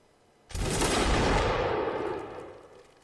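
A sudden, dense volley of musket gunfire erupts in a Napoleonic Wars line battle game, a loud crackling burst of many overlapping shots that rolls on for about two seconds before tapering off.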